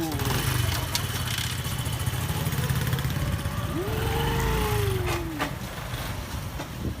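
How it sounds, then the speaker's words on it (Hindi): A motorbike engine putters steadily at idle, close and loud, while a voice talks over part of it and a short rising whine sounds midway. "ये देखो बाइक स्टार्ट होने लगी है।"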